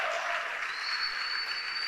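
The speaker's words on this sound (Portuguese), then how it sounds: "Se for para Jesus, pode dar um aplauso" Church congregation applauding during a sermon, a dense, continuous burst of clapping filling the room at moderate loudness for a couple of seconds, with a faint steady tone running above it.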